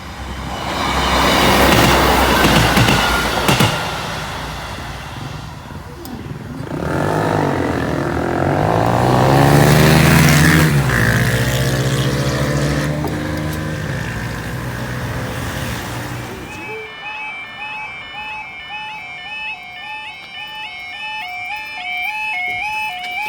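Class 37 and Class 50 diesel locomotives pass a level crossing at Boultham, a loud sustained engine roar and rumble of the train rolling by, followed by a crossing alarm's rhythmic warning tones as the noise fades.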